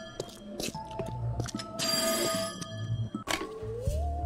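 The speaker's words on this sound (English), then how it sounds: "Pick up the phone, dammit!" An old-style telephone bell rings insistently in the game There Is No Game: Wrong Dimension, with loud rattling rings broken by short pauses and accompanied by background game music.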